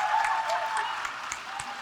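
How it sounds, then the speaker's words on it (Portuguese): An audience at a Christian talk event claps to welcome a guest, a moderate, continuous patter of hands with a voice audible alongside. "Uma salva de palmas, por favor."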